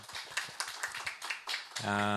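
Audience applause at a 2023 pastors' conference on helping families exposed to violence: a steady burst of clapping for nearly two seconds, then a sustained musical tone takes over.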